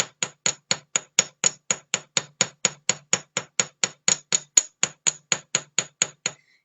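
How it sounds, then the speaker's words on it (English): Hammer texturing one side of sterling silver free-form earrings: a steady run of about twenty-four sharp metallic taps, closely and evenly spaced, loud and near, with no talk. "you really only hammer on the one side, texture on the one side"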